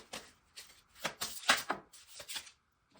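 Tarot cards are shuffled close by in a series of soft, papery riffles and slaps, about eight bursts spread irregularly before stopping.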